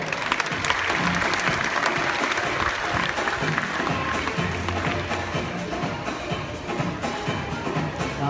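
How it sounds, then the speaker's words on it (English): Loud audience applause at a dolphin show, a dense, steady wash of clapping hands that fills the whole stretch without a break. "please give Renata over here a huge round of applause"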